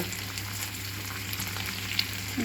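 Instant noodles fry in melted butter with an egg added, a dense, steady sizzle close up with faint scraping and no voices.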